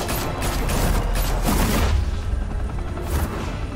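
Dense, loud gunfire from a shootout in Batman: The Telltale Series, with rapid overlapping shots and bursts forming a continuous barrage for nearly four seconds.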